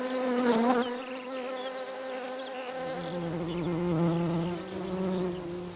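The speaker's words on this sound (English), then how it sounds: "Introduced by settlers in the 1800s, the European honeybee is now everywhere" A European honeybee buzzing in Australia, a close and steady drone with a shifting pitch that wavers as the insect moves, heard on its own.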